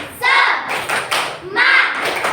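Children in a primary-school classroom doing a spirit clap, bursts of sharp group clapping with chanting voices mixed in, loud and close.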